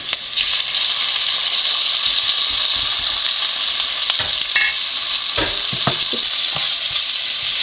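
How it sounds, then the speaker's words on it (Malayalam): Chopped tomatoes sizzle loudly in a pan for sardine curry with shallots, green chilli, ginger and garlic, a continuous close hiss broken by several sharp spoon scrapes and clacks as the mixture is stirred. "അതൊന്ന് പകുതി വേവാകുന്നിടം വരെ ഇളക്കി കൊടുത്തുകൊണ്ടിരിക്കുക"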